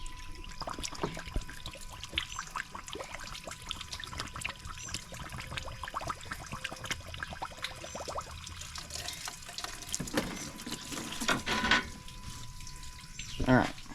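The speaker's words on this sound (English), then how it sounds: "It's gurgling." Coolant gurgling and trickling as it is poured into the radiator of a Suzuki Grand Vitara during a thermostat repair, a steady watery burble close by with a few louder glugs toward the end.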